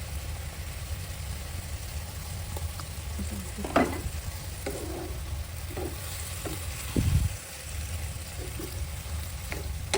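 Cabbage stir-fried in a pan with fish sauce and seasoning sauce, a steady broadband sizzle throughout with scattered scrapes and clinks of a spatula and a brief louder stir near the middle.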